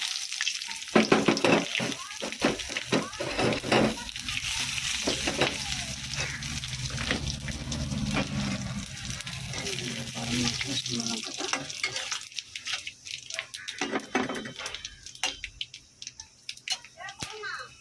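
Cumin, whole garam masala and dried red chillies dropped into hot oil in a kadai, giving a loud crackling sizzle that settles into steady frying with stirring clatter and some splashy, watery noise toward the end.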